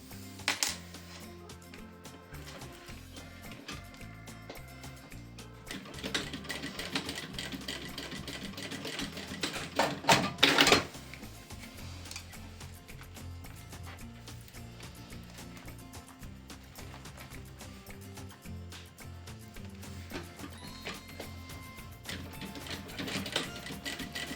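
A sewing machine stitches a seam along the edge of a backpack strap, rapid mechanical clicking and whirring in quiet bursts, with a short louder run of stitching near the middle.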